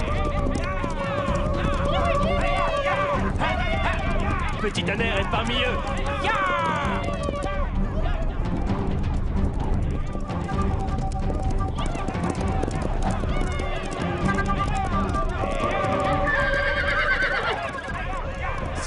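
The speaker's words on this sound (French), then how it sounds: "Ils vont rabattre les chevaux et les coincer contre la falaise." Horses gallop and neigh in an animated cartoon as tribesmen drive the herd toward a cliff, with loud continuous hoofbeats and repeated whinnies mixed with music and shouting voices.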